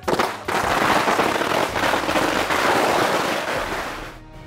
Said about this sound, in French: Les pétards!